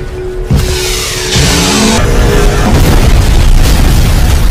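A sudden loud boom bursts in, followed by a sustained roaring blast and rumble that stays loud to the end.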